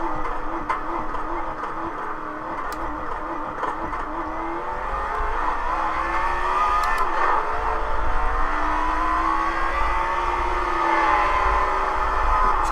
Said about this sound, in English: Wait for this one more car to go by